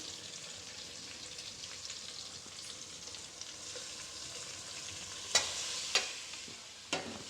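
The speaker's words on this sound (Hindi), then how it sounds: "अब 2 मिनट तक इसको हम थोड़ा सा कसेंगे मसालों के साथ" Minced meat keema with green chilies and spices sizzles steadily in a hot pan, a continuous close frying hiss, broken near the end by a few sharp clacks of a spoon stirring.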